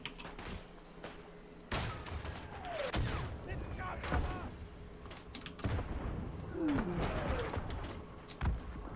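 Gunfire in Isonzo, a World War I shooter on the Italian front, comes as scattered single shots and thuds, some near and sharp, others more distant, over battlefield ambience.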